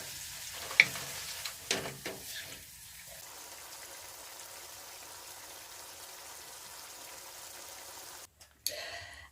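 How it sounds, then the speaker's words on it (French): Basque axoa, cooked with white wine, simmering in a covered pot: a soft, continuous sizzle and bubble, with a few knocks of the lid and pot at the start and end. "On va mettre un couvercle et on va laisser mijoter tranquillement."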